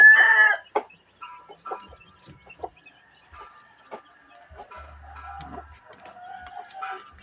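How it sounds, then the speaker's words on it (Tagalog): Backyard chickens and nine newly hatched chicks cluck and peep, with a rooster's crow at the start and then scattered close clucks and chirps across several seconds, with no one talking. "para makita nyo yung sisiw natin. Siyam na piraso yan guys"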